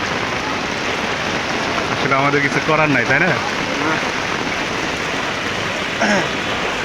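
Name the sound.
heavy rain falling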